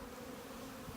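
A shipping package of honey bees gathered from several different hives, giving a steady, close, unbroken buzzing drone with no voices, holding at an even level for about a second.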